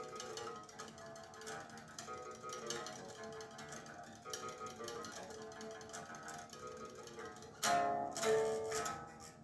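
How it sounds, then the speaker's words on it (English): Tremolo picked guitar riff in a growled metal song section, a dense continuous stream of rapid picked notes at steady loudness, with a brighter burst near the end. "it then goes into the growled section with a tremolo picked riff"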